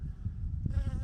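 Honeybees at a hive entrance with a small opening and mouse guard in winter, a short, low, faint buzzing hum with a bee's drone rising briefly near the end.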